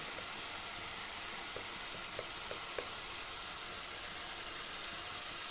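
Turmeric and cooked tomatoes fry in a little hot oil on a village kitchen stove, giving a steady, fairly loud hissing sizzle throughout with a few faint ticks and pops.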